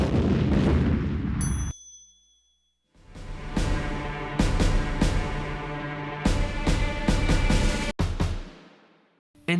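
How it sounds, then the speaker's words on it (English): Stuka dive-bomber attack in the opening bombing scene of the war film Dunkirk: loud sustained droning and whining tones with sharp blasts and booms, broken by a brief near-silent gap, then building again before cutting off. "In Dunkirk, it's the first Stuka bombing scene at the beginning."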